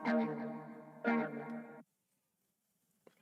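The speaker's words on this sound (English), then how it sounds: "it's a harmonic tremolo and a phaser just next to each other" An electric guitar plays two sustained chords through a harmonic tremolo and a phaser, giving a swirling, pulsing modulation, then cuts off, leaving near silence and a faint click.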